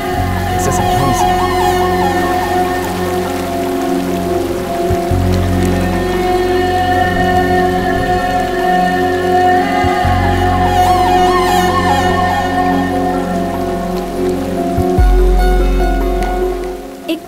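Rain pours steadily in a dubbed Hindi action film scene, a continuous hiss of drops on surfaces that holds at an even level throughout, mixed with a soft music bed and no clear voices.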